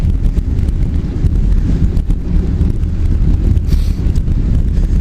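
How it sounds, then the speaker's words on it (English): Heavy wind buffets the microphone in a constant low roar with gusty fluctuations, loud and close, with no other clear sounds. "Woo, windy today."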